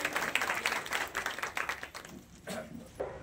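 Audience applause at an outdoor felicitation ceremony on a parade ground, steady rapid clapping from a crowd that fades slightly and picks up again, heard at moderate distance without speech.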